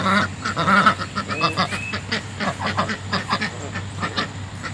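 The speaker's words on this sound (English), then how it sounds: "Yeah, you messy ducks" Several ducks quack and chatter nearby, overlapping calls in an irregular run with a steady low hum underneath.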